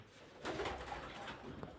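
A soft, low pigeon coo rises briefly against a quiet background, faint and a little distant.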